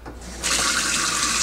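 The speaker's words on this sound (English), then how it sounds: "So run it under the cool water" Cool tap water runs into a sink over a plastic microwave egg cooker pod, a soft start then a steady loud splashing rush that continues without talk.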